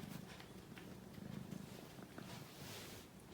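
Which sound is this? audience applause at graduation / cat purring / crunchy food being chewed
cat purring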